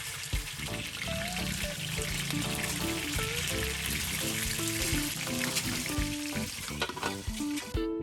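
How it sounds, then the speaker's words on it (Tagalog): Tuna pieces fry in hot oil in a pan, giving a steady, close sizzle and crackle with occasional stirring and faint clinks throughout, with no voices. "let us proceed to our next batch of frying."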